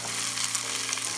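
Onions and celery frying in avocado oil in a pot, a steady close sizzle and crackle with no talking.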